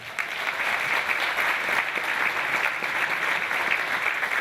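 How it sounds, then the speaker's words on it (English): A warm round of applause for Andrew fills a Christmas carols concert hall, dense and even clapping from a large audience, sustained and fairly close. "So would you give a warm round of applause to Andrew as well?"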